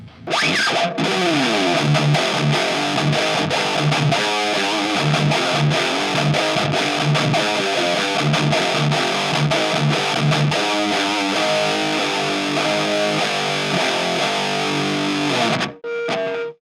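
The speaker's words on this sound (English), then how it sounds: "So let's throw on some riffs and see how this sounds with the mic in the center position." Heavy distorted electric guitar riffs played loud through a Marshall MG412 cabinet miked at center, chugging palm-muted rhythms with ringing chords, ending abruptly.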